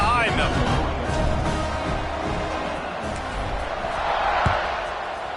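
A football stadium crowd roars as a steady, dense wash of noise at kickoff near the end of the first half, with an announcer talking over it throughout.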